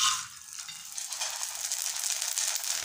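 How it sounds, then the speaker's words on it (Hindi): Papad, or fry papers, frying in hot oil in a pan make a close, continuous, crackling sizzle that holds steady throughout with no talking. "हमारा ऑयल गर्म हो गया हुआ है और अब इसमें हम लोग ये डालते हैं और फ्राई करते हैं।"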